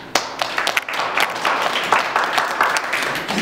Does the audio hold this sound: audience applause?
yes